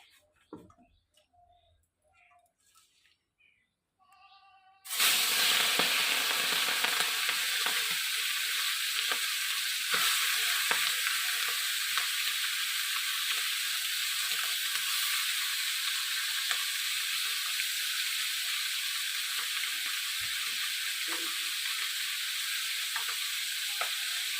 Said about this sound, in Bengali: এখন আমি মাছটাকে ছেড়ে দিব তেলের মধ্যে